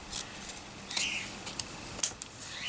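Scissors snip through a fabric doily backed with glued-on cardstock, a few crisp separate cuts spaced about a second apart, close and quiet with no voice.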